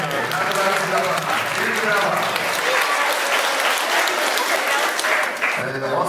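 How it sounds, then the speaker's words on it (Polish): Audience applause at a school New Year concert and auction, steady dense clapping throughout, with a few voices mixed in and a brief dip near the end. "brawa"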